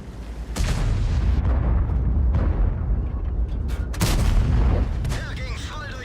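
Heavy tank cannon shots boom through a tank battle video game replay, several loud deep blasts with rumbling tails spread over a few seconds, a voice talking over them.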